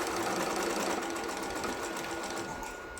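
A computerized embroidery machine stitches a deer design in a loud, dense, continuous rapid chatter that fades slightly at the end, with no voices.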